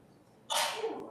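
A single sharp sneeze bursts out loudly during an online public school board meeting, a short explosive burst that fades quickly into quiet.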